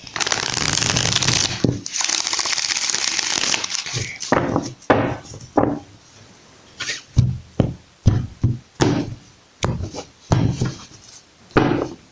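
Tarot cards are shuffled in a series of quick riffling bursts, with a longer papery whoosh at the start, close and fairly loud.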